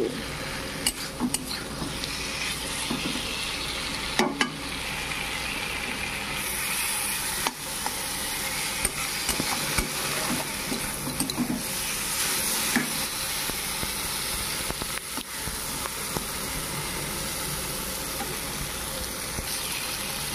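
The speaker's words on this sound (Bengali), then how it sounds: "এতে আমি দিয়ে দেবো পটল আলুগুলি। এগুলি একটু ভালো করে ভেজে নেব মশলার সাথে।" Pointed gourd and potato pieces fry with spices in a pan, giving a steady close sizzle with a few scrapes of stirring and clinks against the pot throughout.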